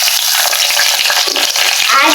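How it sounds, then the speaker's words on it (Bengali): Two bay leaves hit hot oil in a pan for Bangladeshi chicken polao, giving a loud, steady broadband sizzle that holds without a break for the full two seconds, with no talking. "এখন আমি এর মধ্যে 2টা তেজপাতা দিব"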